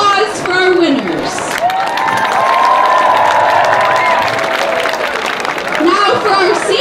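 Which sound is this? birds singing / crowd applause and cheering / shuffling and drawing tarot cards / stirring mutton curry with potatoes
crowd applause and cheering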